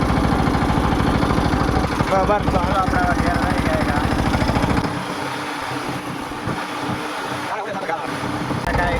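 A tractor engine chugs steadily at low speed on the drive home, loud at first then dropping to a quieter idle-like rumble, with someone talking over it.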